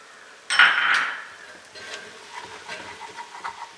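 Beef nihari masala spices are stirred in a pot: one sharp metallic clang, then softer scraping and tapping from a spoon against the metal in an irregular rhythm.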